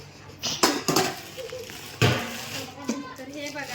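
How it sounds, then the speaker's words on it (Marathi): Light metallic clinks and knocks of steel containers and spoons being handled, a few sharp hits close by, with people talking faintly behind. "हे आहे स्टीलचे डबे चम्मच छान आहे"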